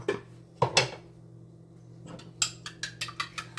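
Fried rice with shrimp, egg and chicken turned in a pan: a spatula scraping and knocking against metal, a couple of heavier clanks, then a quick series of sharp taps close by.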